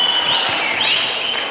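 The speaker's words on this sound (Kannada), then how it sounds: "ಮರಳಿ ಮತ್ತೊಂದು ಜೋರ ಚಪ್ಪಾಳೆ ಆಕಾಶ್ ಅವರಿಗೆ." Loud, sustained applause fills a college fresher's party hall for dancer Akash, steady clapping with a faint crowd wash and no voices over it.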